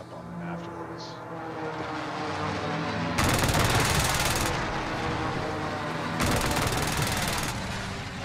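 Bursts of automatic gunfire in the Warzone battle royale game, with two long dense volleys in the middle and near the end over a steady droning engine or aircraft background.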